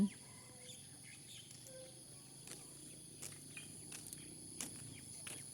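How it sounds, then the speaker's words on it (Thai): Birds chirp in the early morning near a misty hillside, with sparse, faint, brief calls scattered through a steady insect-like hiss and some soft rustling, and nobody speaking. "มีแต่เสียงนกเจี้ยวเจ้าเจี้ยวเจ้าออกทามาหากิน"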